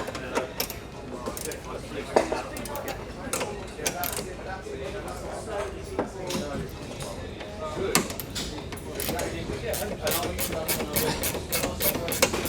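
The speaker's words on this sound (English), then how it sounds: "basically what I need to do is take this kingpin and loosen it." A race car's kingpin is loosened during a paddock setup job, giving a run of close mechanical clicks and turning noises over a steady, busy background.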